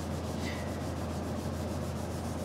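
A Scotch-Brite pad scuffs the finish on a guitar body, making a steady, soft, hissing rub that stays even and continuous throughout, fairly quiet and close.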